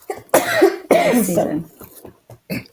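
A woman's mother coughs hard twice in close succession, then gives a few weaker coughs and throat sounds. The coughing is near and loud, with no speech.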